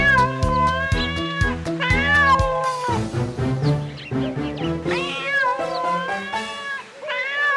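A cat meows repeatedly in the foreground of a Tamil animated story, with a lively musical score playing underneath and no talking.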